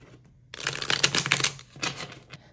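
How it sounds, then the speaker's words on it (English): A deck of playing cards is shuffled by hand, with two bursts of rapid riffling and fluttering close up, under a faint background hum and with no talking. "So we're gonna take our playing cards. We're gonna shuffle these up."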